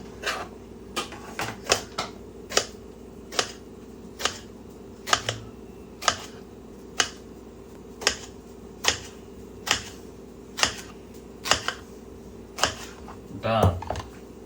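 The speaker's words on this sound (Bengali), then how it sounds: "কলা ধুয়ে নিলাম এখন কেটে নিব সুন্দর করে" Knife chopping a washed banana into small pieces on a board, a steady series of crisp, close taps spaced about half a second apart, with a low background hum throughout.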